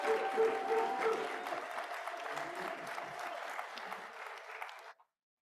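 Sustained applause from a conference audience, a broad crowd wash of clapping that stays even for about five seconds before cutting off abruptly into silence.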